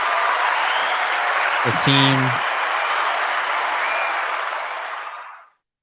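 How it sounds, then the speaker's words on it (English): Steady broadband clapping from one person on a live online call, running continuously for about five seconds before stopping, with a short spoken phrase breaking in partway through. "Nice claps, TJ."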